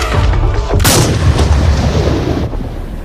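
A single loud rifle shot rings out during a big-game hunt in a video game, its sharp crack followed by a long rolling echo over a steady low outdoor ambience.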